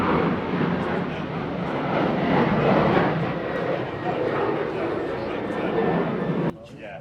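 Ryanair airliner passing overhead, a broad steady jet roar that holds loud for several seconds before cutting off abruptly near the end.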